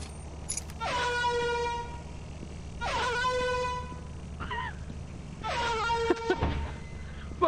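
A vehicle horn in the video game Lethal Company blares three long, steady honks about two seconds apart, loud and close, with a shorter blip near the end.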